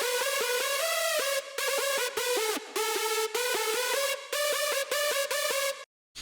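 A bright, layered synth lead plays a quick rhythmic melody with punchy, compressed notes and brief gaps, ending in a short drop to silence.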